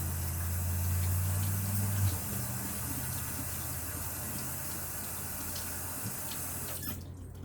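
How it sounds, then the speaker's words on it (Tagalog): Tap water runs steadily into a home kitchen sink while hands are washed under it, a continuous close hiss and splash with a brief louder gush near the start and a clatter at the end. "hugas na ako kamay mga higala"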